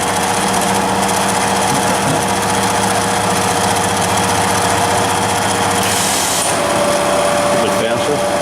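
The spindle of a Bridgeport CNC knee-type vertical milling machine runs steadily with a constant mechanical hum and whine, loud and close, shifting pitch slightly partway through.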